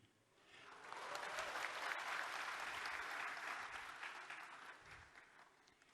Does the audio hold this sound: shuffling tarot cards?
no